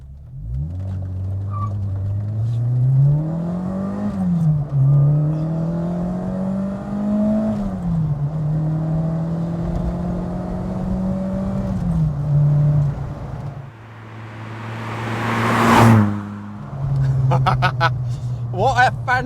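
A Fiat Strada 130 TC Abarth's Lampredi twin-cam engine revs up and down repeatedly, climbing and falling in pitch, loud and close, ending in a sharp high rev burst and a few crackles.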